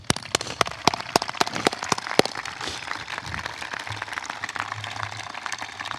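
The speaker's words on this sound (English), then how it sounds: "Let's give them a round of applause" Scattered audience applause breaks out at a military change of responsibility ceremony, several loud close claps at first, then thinning into a lighter, patchy patter, with a low hum entering near the end.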